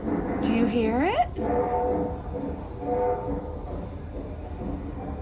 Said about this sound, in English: it was the train starting up